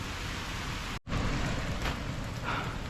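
Steady rain hisses evenly throughout on a riverbank, with a brief dropout near the start before the downpour resumes.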